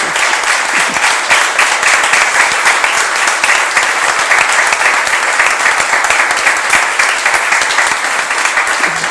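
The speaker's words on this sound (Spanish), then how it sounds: "Yo pido un aplauso muy," Loud, steady audience applause at a book presentation, a dense wash of many hands clapping continuously from start to finish with no break.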